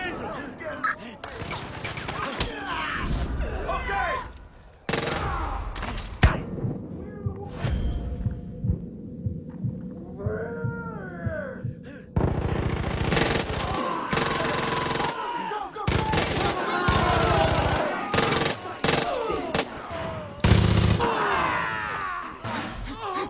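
Gunfire in Far Cry 5 during a County Jail fight, with bursts of automatic shots and single cracks mixed with other game noises and a raised voice, loud and close throughout.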